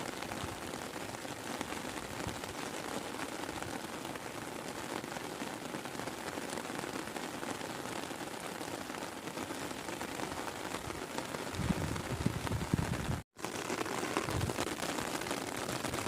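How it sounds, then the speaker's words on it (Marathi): Rain falling steadily around someone sheltering under an umbrella, a continuous even patter with a brief dropout near the end and no voices. "बसतोय छत्री खाली आणि पाऊस चालू झाला आहे"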